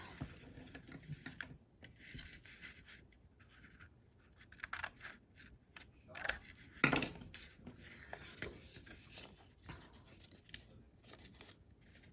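Scissors snipping paper while decorating a handmade mini album, a series of quiet close cuts and rustles with a louder cluster of snips in the middle, no voices.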